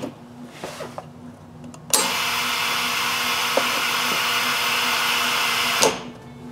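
The air-assist pump on a CNC laser cutter switches on abruptly and runs as a steady, loud rushing hiss with a low hum for about four seconds, then shuts off, leaving a faint background hum.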